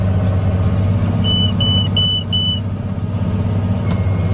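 A hay baler's alarm beeps four times in an even, quick row, thin and high above the steady low drone of a tractor engine idling nearby, with no voices.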